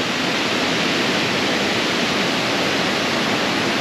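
A waterfall in Martvili Canyon, Georgia roars with a dense, unbroken wash of rushing water, loud and steady throughout with no voices over it.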